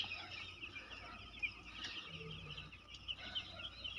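Many baby chicks crowded in a crib enclosure, a faint, continuous chorus of overlapping high peeping and chirping heard from nearby.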